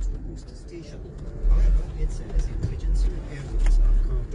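A car driving nearby on a road, its low rumble swelling and fading a few times as it moves, heard under a person talking.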